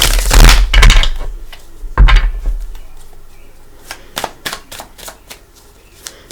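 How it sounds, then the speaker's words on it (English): Tarot cards riffle and shuffle in a few quick bursts, followed by sharper taps and snaps as the deck is squared, close up. "Let's give the Cosmic Tarot a couple shuffles."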